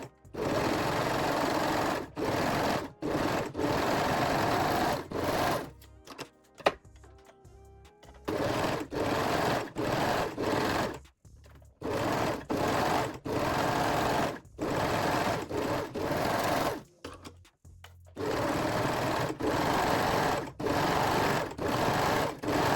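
A sewing machine stitches stretchy swimwear fabric for a bikini top in bursts of steady mechanical whirring, each a few seconds long and separated by short pauses, loud and close with no talking.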